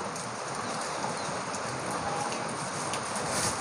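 Steady rain pouring down and pattering on surfaces, a dense continuous hiss with no voices, even and fairly close.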